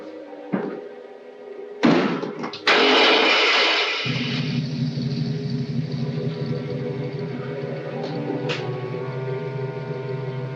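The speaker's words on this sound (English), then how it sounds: "Start the motor." An old motor vehicle engine turns over after a door slam and a clunk, then settles into a steady low idle that runs continuously, fairly close, with a faint higher whine.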